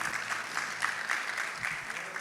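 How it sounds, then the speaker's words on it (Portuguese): A church congregation gives a round of applause for Jesus, steady clapping of moderate loudness with voices faintly mixed in. "Vamos dar uma salva de palmas para Jesus?"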